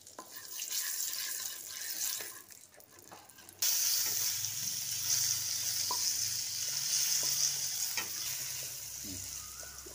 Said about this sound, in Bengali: কড়াইতে তেল দিয়ে প্রথমে পনিরগুলোকে ভেজে নেব।